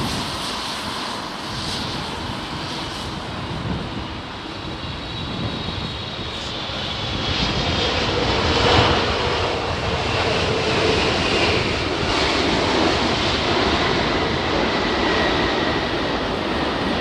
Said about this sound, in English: There's an example of a late reverser deployment.